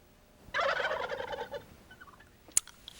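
A person imitates a wild turkey, producing a loud, rapid, rattling gobble for about a second, followed by a few softer clucks and a sharp click.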